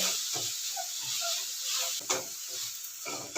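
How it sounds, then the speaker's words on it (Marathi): Beetroot sautéing in ghee over a low flame gives a soft, steady sizzle and hiss, broken by a few gentle stirring scrapes in the pan, close and quiet with no voices. "बीट चांगला परतण्यासाठी परत यामध्ये दोन चमचे तूप घालून घेतलेलं आहे"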